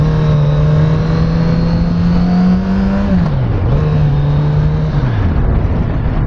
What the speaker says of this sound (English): I love the sound of the engine.